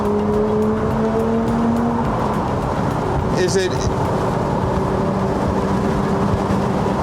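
A 2019 Porsche 911 Speedster engine with individual throttle bodies, a steady loud drone of the car running with a brief rising rev in the middle, heard under someone talking.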